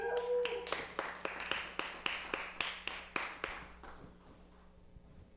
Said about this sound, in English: Could I get a big round of applause?